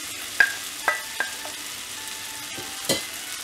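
Carrot and drumstick pieces fry in a pan for sambar, a low steady sizzle broken by several sharp scraping stirs of a spoon against the pan, close and moderately loud, with no talking.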